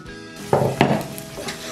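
Korean mandu dumplings fry in a pan with a steady sizzle. Two sharp clinks of utensil against the pan cut in near the middle.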